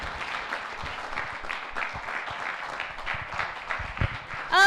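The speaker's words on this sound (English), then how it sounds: "let's give Mr. Keiss another round of applause" A school morning assembly audience claps together in a steady, dense round of applause at moderate volume, with a brief louder burst near the end.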